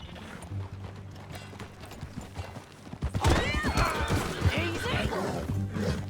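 Horse hooves clip-clop in a steady rhythm in the video game Red Dead Redemption 2, becoming louder and busier partway through, with faint background tones and no clear talk.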